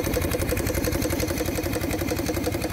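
A restored steam engine running on live steam chuffs and clatters in a fast, steady mechanical rhythm, close and continuous with no talking.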